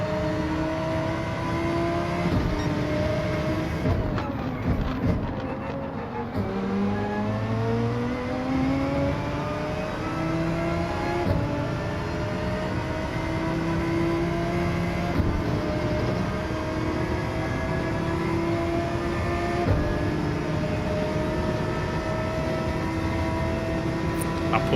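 Gr.3 race cars in Gran Turismo 7 at Interlagos, a Porsche among them: a continuous loud engine drone with rising and falling pitch through gear changes, and several cars close together.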